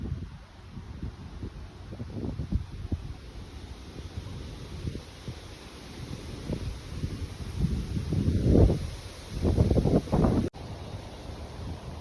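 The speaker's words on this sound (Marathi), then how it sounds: "वारा पण खूप सुटला आहे." Strong wind blows outdoors on a green summer morning in Braintree, USA, with gusty rumbling buffets hitting the microphone close up and swelling and dropping unevenly.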